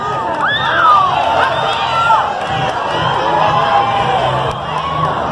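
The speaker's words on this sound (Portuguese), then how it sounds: "Quero os aplausos de vocês para essa galera maravilhosa" Packed Brazilian concert crowd cheering and shouting: loud continuous roar of voices with high whoops and yells rising and falling, clapping barely distinct beneath the cheering.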